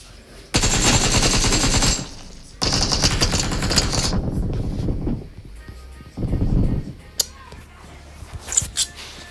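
AKM assault rifles firing in a video game, with two long sustained bursts of automatic fire followed by a shorter burst and a few scattered single shots, loud and close.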